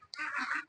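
A single close, nasal duck quack, drawn out for about half a second, with another call starting at the very end, set against a quiet background.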